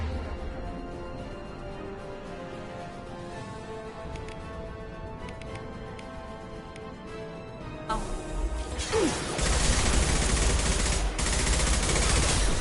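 Loud, continuous gunfire in the video game Mass Effect 2, erupting suddenly after a quieter musical passage and rattling on densely to the end.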